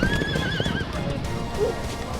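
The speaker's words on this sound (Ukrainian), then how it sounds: "Тут навіть кінь є, і на ньому вчать їздити." Horse neighing at an outdoor Tolkien Day fair, a loud wavering whinny up front followed by softer snorts, with faint hoof clip-clop and crowd noise behind.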